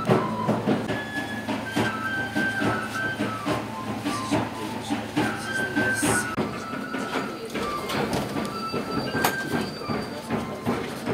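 Train pulling away on rails in Peru, with a continuous rumbling roll, rhythmic clacks and occasional metallic squeals close by, under faint voices and background music.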